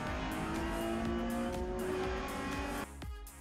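BMW M3 race cars launch at the start of a circuit race in Riga, their engines roaring loud and sustained with rising pitch, then cutting sharply near the end as another car's noise takes over.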